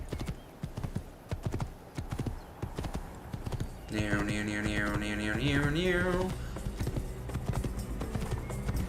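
A horse's hooves clip-clop in a steady rhythm in the Assassin's Creed video game, with a loud whinny rising midway, close and clear, and someone talks over part of it.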